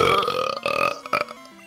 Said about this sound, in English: You let out two burps that were just like that